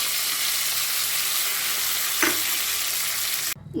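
Mustard seeds, cumin, garlic, chilli and curry leaves crackle in hot oil for a Telugu dal tempering, a steady close sizzle with a brief clatter near the end and no talking.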